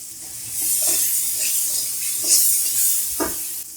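Cumin seeds hit hot oil in a beef karahi, giving a steady, loud hiss of sizzling frying with faint stirring scrapes, close up.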